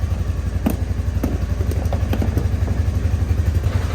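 A Polaris Ranger 570 UTV engine runs at a steady idle, its low rhythmic chugging close and loud, with a few clattering knocks over the top and no talking.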